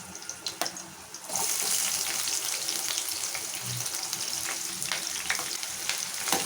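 Green chillies and onions fry in hot oil in a pan for a ridge gourd curry, a steady loud sizzle after a quieter start, with brief clinks and stirring scrapes and no talking.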